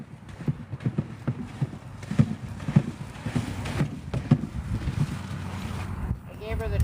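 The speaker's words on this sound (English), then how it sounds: "So I like to start my horses with a walk and end with a walk." Horse hooves clip-clopping at a slow, steady walk during an outdoor training session with a halter, close to the microphone, with wind noise and a low hum underneath.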